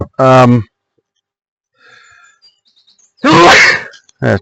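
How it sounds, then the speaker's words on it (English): A person sneezes sharply a couple of times, with short voiced bursts and quiet pauses between them, close by. "Well, I'm sneezing away nicely with the pollen here."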